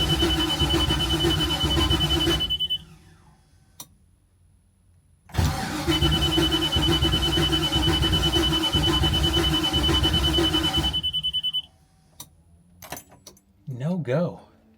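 A 1972 Chevelle RS engine cranks over without firing, two long bursts of loud starter churning with a steady warning chime, separated by a pause, followed by brief talk.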